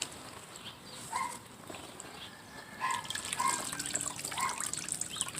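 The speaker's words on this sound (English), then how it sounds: "I'm just gonna have to rinse these pants in the water until it runs clear" Black-dyed pants are rinsed under running water, a soft continuous trickle and splash with a few brief clinks and rustles, fairly quiet and close.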